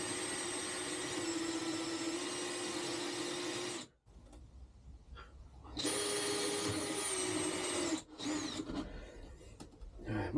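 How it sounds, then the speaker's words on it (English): A power drill boring a starter hole in a panel for a jigsaw while fitting a Chinese diesel heater, a loud steady whine that stops briefly, then restarts for another sustained run and cuts out again. "just drilling a hole so we can get a starter for the jigsaw"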